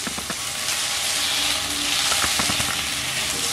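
Raw green mango frying in a pan with whole spices: a dense, loud sizzle with a few soft stirring ticks.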